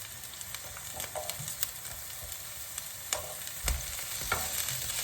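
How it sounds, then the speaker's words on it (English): Courgette and carrots stir-frying in a hot pan for a Cajun vegetable wrap, a faint steady sizzle with scattered sharp spatula scrapes and taps, close and quiet, no talk. "same process, just stir it in, keep it moving, and let them pick up some of the heat off the pan"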